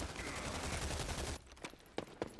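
Bursts of rapid gunfire in the Rogue Company shooter game, a dense stretch of automatic fire cutting off into a few scattered, separate shots.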